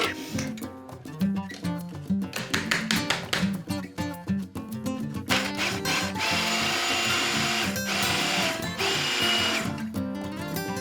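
An electric grinder whirs through dried onion being ground into powder, starting in short stuttering pulses before settling into a continuous loud high-pitched whine, with no talking.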